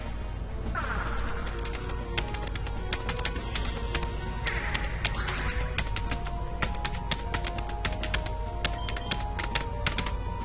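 Rapid, clattery key presses on a computer keyboard, continuous and close, with a few brief chirping sounds in the background.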